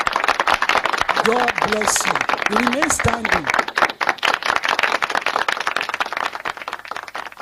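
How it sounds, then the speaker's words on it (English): Audience applause at an achievers' academy awards event, sustained dense clapping throughout under a speaker's voice and amplified talk. "Continue to clap."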